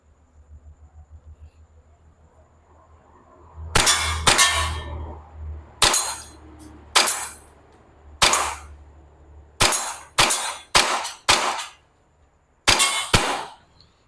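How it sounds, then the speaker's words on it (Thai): A WE Hi-Capa 5.1R gas blowback airsoft pistol fires about eleven sharp, loud cracks, some in quick pairs and others spaced apart, over a faint hiss of gas between shots. "อ่ะยิงได้ปกตินะครับลูกหมดสไลด์ค้างตัวปืนไม่มีปัญหา"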